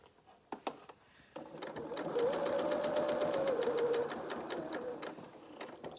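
A sewing machine works slowly over the bulky centre seam of children's shorts or dungarees, a close whirring run that builds after a few opening clicks and holds steady before easing off.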